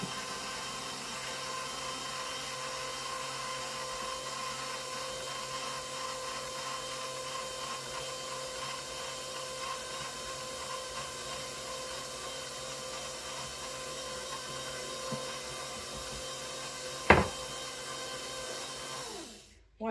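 A stand mixer kneads pizza dough made with 3½ cups of flour, giving a steady, even motor drone with a low rumbling churn throughout and a single brief knock near the end.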